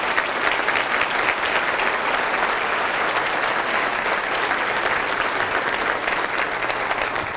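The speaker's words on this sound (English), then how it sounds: "Let's give our principals a round of applause for that work." Steady, sustained applause from an audience at a school superintendent's state-of-the-schools address in Tennessee, honoring school principals; dense clapping fills the room evenly for the whole stretch with no voices over it.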